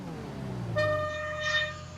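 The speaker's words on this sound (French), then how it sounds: "Et fais ton klaxon s'il te plaît." A car horn in a video game sounds a steady harmonic honk for roughly a second, starting partway through over low engine rumble, with a brief second rise in brightness near the end.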